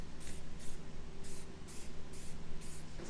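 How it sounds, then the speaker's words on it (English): Aerosol spray paint hisses in bursts against the side of a pickup truck, roughly six short sprays in a steady rhythm close to the microphone, with a faint low hum in between and no voices. "We spray painted the side of the truck so we have an outline for all of the screws."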